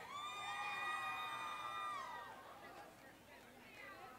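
Members of the Kai Omega and Pike Greek organizations give a big shouted cheer at the 2021 Hobo Day parade, loud and sustained at first and then fading into crowd chatter.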